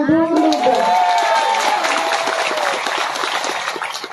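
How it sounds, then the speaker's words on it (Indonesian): A crowd at an evening Islamic religious gathering breaks into applause, loud and dense at first with cheering and voices mixed in, then thinning slightly as the clapping carries on. "Tepuk tangan dulu dong."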